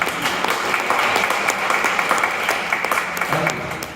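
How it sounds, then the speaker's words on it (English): An audience at a talk on life, growth and success breaks into a sustained round of applause, many hands clapping at once and holding steady for about four seconds. "Big round of applause"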